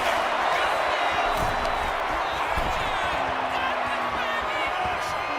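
A dense, steady roar of an arena crowd cheering in a WWE 2K wrestling game, continuous and loud throughout, with a commentator's voice faintly mixed in.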